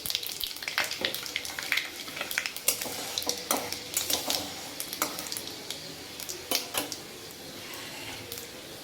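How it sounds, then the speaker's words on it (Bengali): Dried red chillies and five-spice tempering crackle and sizzle in hot oil, loud and close, with sharp irregular pops and a few clinks of a utensil against the pan throughout. "এবার আমরা দিয়ে দেবো শুকনো লঙ্কা,"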